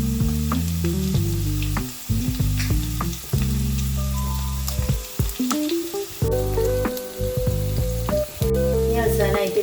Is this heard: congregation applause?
no